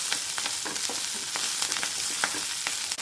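Onions sizzle in hot oil in a pan for an egg and potato roast, a steady broadband frying hiss with scattered clicks of stirring throughout, close and alone, with no voices.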